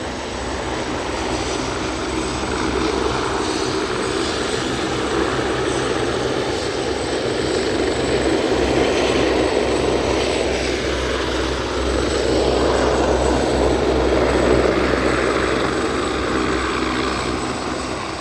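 Aircraft engine noise at Aberdeen airport, a steady broadband roar from a plane backtracking along the runway, fairly loud and continuous throughout, swelling slightly toward the end, with no talk over it.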